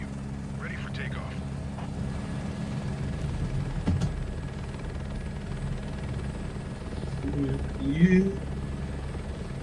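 A helicopter in Microsoft Flight Simulator 2024 hums and whirs steadily with a low engine drone, moderately loud and continuous, while voices speak briefly over it.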